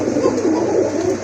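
A pair of deep red Gorra fancy pigeons with snake eyes give soft, close, rolling coos that run continuously through a short stretch.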